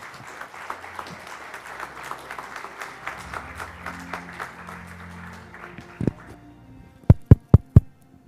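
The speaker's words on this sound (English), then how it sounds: "A round of applause, everybody, please." Applause at a conference awards presentation in Dubai, a moderate crowd clapping that thins out over several seconds, ending with a few loud, isolated claps close by.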